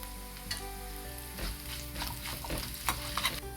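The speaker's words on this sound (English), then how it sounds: "Next we'll add the cashew nuts and fry until it's golden brown." Cashew nuts fry in a pan until golden brown, a continuous soft sizzle punctuated by a few sharp spoon-scrape and stirring clatters, close by, with no talking.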